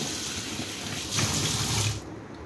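Water runs steadily from a tap while sago is rinsed in cold water, a close, continuous hiss that swells briefly before dropping away at the end.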